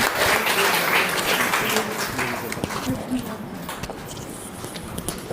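Audience applause at a Raksha Bandhan gathering in a hall, a dense, steady patter of many clapping hands that gradually thins, with voices mixed in.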